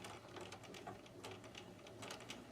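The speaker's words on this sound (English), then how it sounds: "So I'm going to start with the back stitch" A sewing machine back stitches silk organza, its needle tapping in a quick, regular mechanical rhythm that sounds fairly soft but continuous throughout, with no speech.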